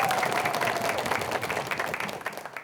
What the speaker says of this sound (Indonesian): Sekali lagi tepuk tangan yang meriah untuk Dewan Juri kita hari ini.